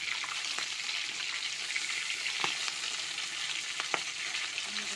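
Tangra fish frying in hot oil, a steady close hiss of sizzling with occasional sharp pops and crackles as the skin bursts, no voices.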